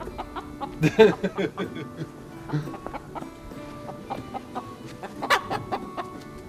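Chickens cluck and squawk in agitated bursts, close by, with scattered louder calls over a busy background.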